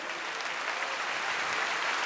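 A church congregation at a Baptist service claps together in a dense, steady burst of applause, filling the hall evenly for a couple of seconds without any speech.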